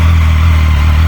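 A newly bought motorcycle's engine, started for the first time, idles loudly and steadily at close range, a deep, even rumble throughout with no voices.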